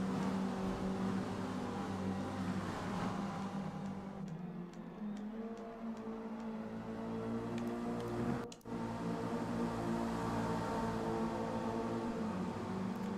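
MX-5 Cup race car engines drone steadily in a racing video game on the Grand Oak circuit, a continuous mid-level whine with one brief dip partway through.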